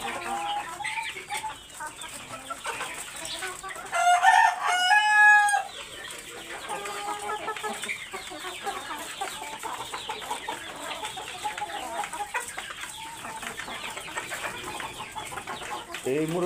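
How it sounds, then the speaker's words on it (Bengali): Four-month-old Australorp roosters and hens on a farm keep up a busy clucking, and a rooster crows loudly and close partway through over the softer, ongoing flock chatter. "এই মোরগগুলো অস্ট্রেলাপের মোরগ"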